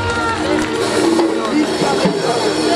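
Crowd noise from an audience at a school golden jubilee cultural programme at Pragpur High School. Steady, dense crowd sound with clapping and cheering fills the whole stretch over faint music tones.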